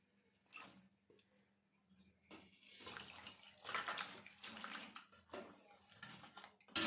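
Running water splashes over chopped bitter gourd and mixed vegetables being washed by hand in a kitchen, irregular bursts of pouring and sloshing that start quiet and grow fuller, close and without talk.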